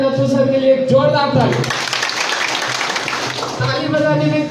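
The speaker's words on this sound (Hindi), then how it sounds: "ताली बजाने में कंजूसी मत करना" Audience applause at a church gathering, a dense burst of clapping rising after a man's speech and lasting a couple of seconds before his voice returns over it.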